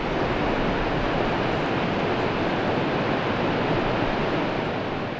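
Seven Sisters Falls near Cherrapunji, where seven streams join into one waterfall, produces a continuous, loud, broadband roar of falling water with no breaks or voices.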